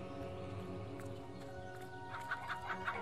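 A chicken clucks in the fantasy game Fable: The Lost Chapters, a few quick, short clucks late in the clip, faint against a soft ambient music bed, with no talking.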